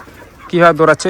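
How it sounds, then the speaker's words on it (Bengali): Chickens in a village poultry farm shed give a burst of close, loud clucking and squawking calls in the second half, after a quieter start. "এই যে বন্ধু দেখছো পাখিগুলো কীভাবে দৌড়াচ্ছে"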